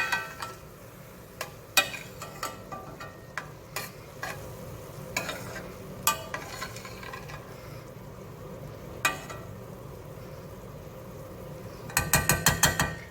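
Cream stirred in a pan, heard as a steady soft sizzle broken by irregular clicks and taps of the utensil against the pan, ending in a quick burst of rapid scraping strokes.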